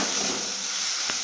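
Spices with Kashmiri chili powder fry in oil as a continuous close hiss and sizzle, with a brief soft knock near the end.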